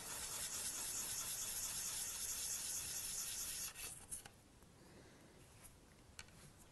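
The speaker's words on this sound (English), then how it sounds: "I just only use a little bit of sandpaper, so the two plastic bits which come from the mold, they're off" Sandpaper rubs steadily against plastic differential gear parts, a continuous close rasping hiss lasting a few seconds before it stops, followed by quieter handling noises.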